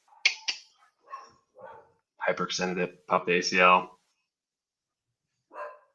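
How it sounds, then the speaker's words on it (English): A puppy barks a few quick times close by, in short yips at the start and once near the end, set between stretches of someone talking. "Excuse my puppy dog."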